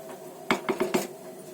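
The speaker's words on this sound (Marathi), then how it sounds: "गॅस पेटवला, इथे कढई ठेवली आहे" A metal wok is set down on a gas stove while cooking village-style biryani, giving four quick clanks in close succession over a low, steady background hum.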